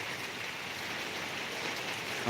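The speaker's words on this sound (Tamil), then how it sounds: "நல்லா மழை பெஞ்சிட்ருக்கீங்க மக்களே" Steady rain pours at a town bus stand, a constant, even hiss of falling water with no break or variation, moderately loud throughout.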